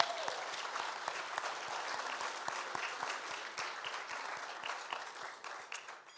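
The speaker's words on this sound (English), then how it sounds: "So another round of applause for you all." Audience applause fills the room at a press club inauguration evening, a dense, steady wash of many hands clapping that holds for several seconds, fairly quiet and without speech.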